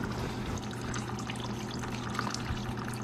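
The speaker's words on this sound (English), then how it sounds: "now we're going to drain out the distilled water." Distilled water drains from the drain bolt hole of a motorcycle's water pump, giving a steady close pouring trickle with a low continuous hum beneath, alone without talk.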